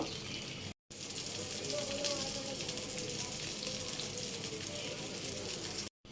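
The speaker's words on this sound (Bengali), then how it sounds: "ইলিশ মাছগুলো আমার এই ফিটোপিট উল্টিয়ে পাল্টিয়ে ভেজে নেওয়া হয়ে গেল" Hilsa fish and roe fry in a pan with a steady, close crackling sizzle that runs continuously, broken by two brief silent cuts, with faint background noise underneath.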